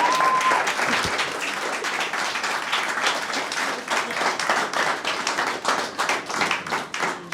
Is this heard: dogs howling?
no